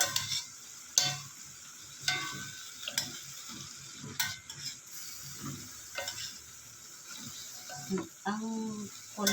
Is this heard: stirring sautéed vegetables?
yes